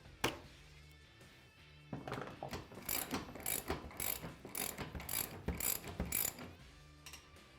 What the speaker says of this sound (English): we're using a 15mm socket and wrench to remove the A-pillar bolts